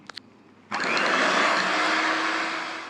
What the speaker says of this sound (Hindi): 3 मिनट तक हम इसको बीट करेंगे अच्छी तरीके से